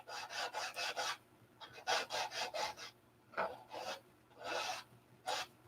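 Wood is sanded by hand up to a marked line to round it into a half-round edge. Close, raspy back-and-forth strokes come in rhythmic bursts separated by short pauses.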